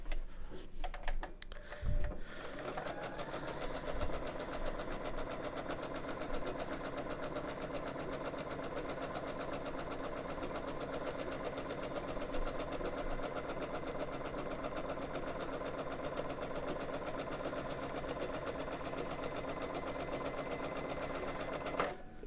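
A sewing machine stitches scrap fabric for a gingham quilt, running steadily and continuously at close range after a brief start, with a fast even mechanical rattle and hum and no talking.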